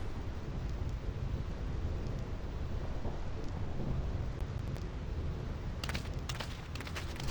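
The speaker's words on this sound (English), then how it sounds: "This storm never stops." A thunderstorm in Final Fantasy X HD Remaster on the Thunder Plains, a constant roar of rain and wind with low rumbling and a brief crackle of thunder near the end, no talking.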